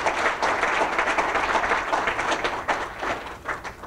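Applause from an audience at a school campus opening ceremony rolls on steadily, a moderate crowd clapping densely at mid distance and tapering slightly toward the end.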